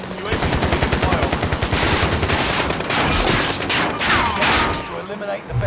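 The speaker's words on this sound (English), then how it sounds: "UAV taking fire." Sustained automatic gunfire in Call of Duty Modern Warfare Plunder mode on Caldera, aimed at a UAV: loud, evenly spaced rapid shots with brief pauses, lasting about five seconds before tapering off.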